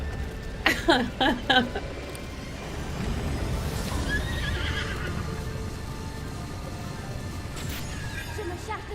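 Horse neighing in the game Breath of the Wild, a burst of loud whinnies and clopping hooves early on, then a steady gameplay rumble with a voice talking over it.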